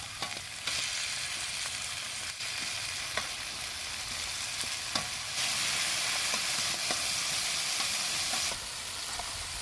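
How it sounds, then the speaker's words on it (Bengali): Tomatoes lightly roasting in a pan make a continuous hissing sizzle with occasional faint clicks and stirring touches, steady throughout and swelling briefly louder midway. "টমেটোগুলোকে খুবই হালকা রোস্ট করতে হবে, না তো কিন্তু এগুলো নরম হয়ে যাবে।"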